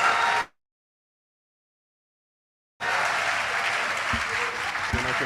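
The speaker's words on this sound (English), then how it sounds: "Please, another round of applause" Audience clapping at an annual leadership lecture in Nasarawa State, a brief burst, then a cut to silence, then sustained full-room applause that carries on steadily to the end with a couple of louder knocks.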